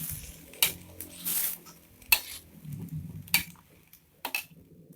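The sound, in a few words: stirring noodles with sliced celery in a pan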